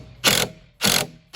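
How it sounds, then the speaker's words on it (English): Screws are backed out of an RC car ramp with a ratcheting driver, making loud, close bursts of rapid clicking that start and stop in a regular rhythm. "let's get all these screws out of here so that I can actually get this screw to fit into there"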